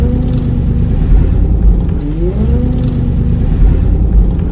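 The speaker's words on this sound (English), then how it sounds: "This is definitely power steering." Power steering on a first-generation Ford Raptor pickup, heard as a loud, steady low rumble of the running engine with a faint whine that rises and bends midway, close up and continuous with no talking.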